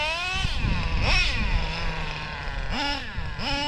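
A Traxxas RC car fitted with an O.S. 21 TM nitro engine screams in short revving bursts, its pitch sweeping up and down sharply across a few seconds, loud and close.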